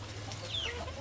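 A backyard free-range chicken gives a short, soft cluck or two at close range, set against a steady low background hum.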